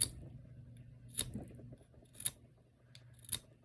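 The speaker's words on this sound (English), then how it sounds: "Should have sharpened my pencil before I started." Pencil lead being shaved to a finer point with a blade while drawing: faint, evenly spaced scraping strokes about once a second over a low steady hum.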